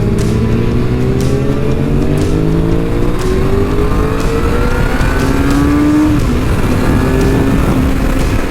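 A Suzuki SRAD motorcycle, a project bike, being ridden on track laps in Canada, its engine droning loudly and constantly as revs climb and fall through gear changes, with heavy wind rush and no talk.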